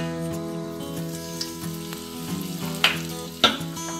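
Asafoetida dropped into hot oil with browning onions over a low flame sizzles steadily, with a few sharp crackles and stirring clinks.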